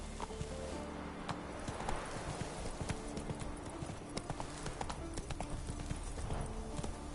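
Roach, a horse in The Witcher video game, galloping with steady, close clip-clop hooves in a fast repeating rhythm over ambient game sounds.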